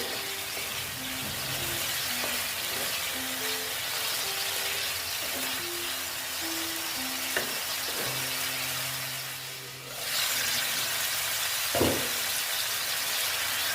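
Koi fish curry masala with salt frying in a pan, a steady close broadband sizzle running throughout with occasional soft clinks and a brief stir near the end.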